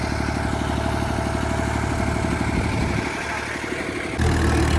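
A tractor engine drones steadily in a flooded rice paddy in a Punjab village during the rainy season, a loud, continuous mid-pitched rumble with a rhythmic chug that shifts near the end.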